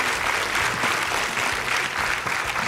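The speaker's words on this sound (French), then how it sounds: "Ça mérite des applaudissements" Sustained applause from a studio audience at a Swiss Christmas television show, dense and steady clapping throughout without talk.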